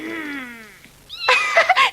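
A kitten meows in a few rising, wavering cries, close and fairly loud, with no talk over them.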